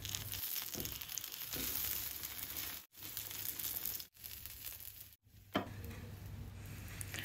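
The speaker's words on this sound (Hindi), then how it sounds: "एक तरफ पक गया है तो मैं इस तरह से पलट के दूसरी तरफ भी पका लूँगी" Eggplant slices for baingan bhaja sizzle and crackle steadily in a hot pan, with brief gaps and a soft clatter as the pieces are flipped over to cook the other side.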